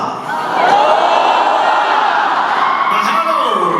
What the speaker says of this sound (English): Do this so that I have the crowd help me give you guys a proper Hawaii hello